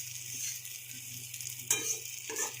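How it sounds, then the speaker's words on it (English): Rice being gently stirred with butter in a pan, soft quiet scraping and faint sizzle with a couple of brief spoon clinks, close and low in level, no voices. "You have to gently mix it, otherwise the rice grains can break."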